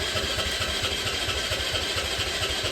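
An old motorcycle engine chugs as someone tries to start it with the self-starter and the kick, giving a steady, low, rhythmic pulsing throb up close and alone, with no voices.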